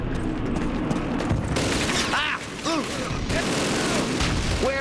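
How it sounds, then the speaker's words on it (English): A gunfire exchange in the True Crime video game makes a loud, dense clatter of shots mixed with whistling, sweeping effects, with brief dips between bursts. "You'll enter an exchange of fire unaware of where it's actually coming from"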